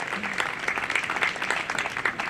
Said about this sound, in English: I want you to give them a round of applause